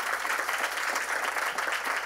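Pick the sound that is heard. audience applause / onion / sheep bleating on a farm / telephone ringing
audience applause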